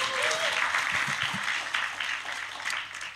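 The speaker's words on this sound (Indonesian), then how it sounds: "berikan tepuk tangan kita untuk Tuhan kita" Congregation at a church fellowship service applauding together, a dense, steady wash of many hands clapping that holds evenly for a few seconds, with a faint voice and low tone briefly underneath.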